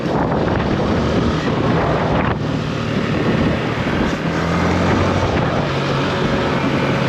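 Steady wind rushing over an open outdoor space, with a low continuous rumble like a boat engine beneath it, no voices.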